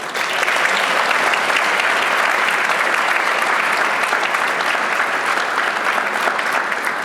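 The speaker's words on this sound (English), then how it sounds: "please give a round of applause for our panel" An audience at an event applauds as a panel comes onto the stage, a steady, dense wash of clapping from many hands lasting several seconds without letting up.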